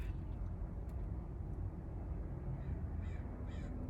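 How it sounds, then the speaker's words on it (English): Crows caw several times over a constant low rumble of traffic or wind, the harsh calls sounding fairly distant. "You hear the fucking crows?"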